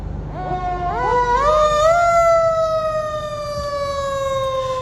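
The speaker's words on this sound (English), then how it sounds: "It's a mechanical siren. It's called a Federal Q siren." A Federal Q mechanical siren on a fire truck winds up from a low growl to a loud, sustained wail, then holds its high howling tone.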